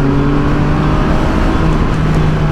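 Can-Am Spyder three-wheeler accelerating to overtake on a road trip in Maramureș, Romania, its engine a steady, loud droning hum under heavy wind rush, no voices.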